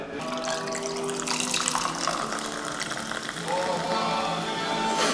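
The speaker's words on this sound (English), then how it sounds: "I'll pour it for you too." Clear peach-ring-scented drink poured into a cup in a garage gym, a steady liquid gush running throughout with a faint voice underneath.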